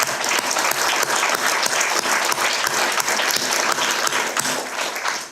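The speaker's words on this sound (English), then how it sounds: "I want to give him a very warm applause as well for that work." Warm, steady applause from an audience at a university grant award ceremony, dense clapping filling the room at an even level throughout with no breaks.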